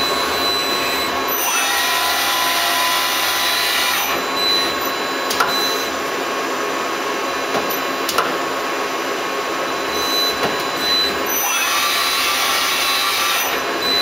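A Star SW7R Swiss-type lathe machining a part, its continuous hissing whirr of cutting and coolant running loud and steady, with brief shifts in tone around two, four and twelve seconds.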